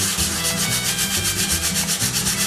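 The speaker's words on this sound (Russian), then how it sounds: "Ошкуриваем поверхность гитары, чтобы убрать старый, вспухший, потрескавшийся лак." Continuous close-up hand sanding of a guitar body to strip old, swollen, cracked lacquer: steady abrasive rubbing strokes in a quick even rhythm, loud and uninterrupted.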